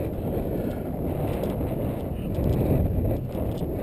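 Steady low rumble of gusting wind buffeting the microphone at a radio-controlled model plane flight, continuous and loud with a slight surge near the end, no voices.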